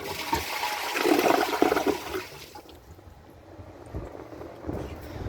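An American Standard Cadet 3 skirted toilet flushes with a loud rushing surge of water that peaks early, then drains and fades into a quieter gurgling refill with a few clunks.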